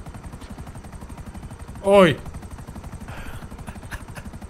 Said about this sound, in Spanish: Creo que el helicóptero está un poquito jodido, ¿eh?